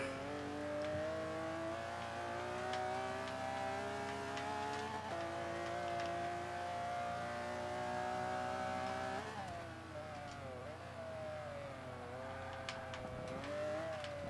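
Ford GT race car engine in Forza 5 runs steadily at high revs, gear changes audible as pitch drops and climbs, continuous and loud with no talk.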